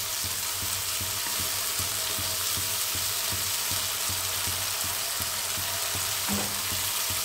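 Bengali chholar dal with bay leaf sizzling in oil in a pan, a constant close frying hiss with faint stirring scrapes.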